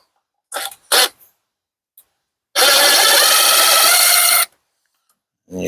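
A hose clamp screw is backed out on an LG front-load washer: a few sharp clicks and handling knocks, then about two seconds of loud, steady whirring from a driver, followed by silence.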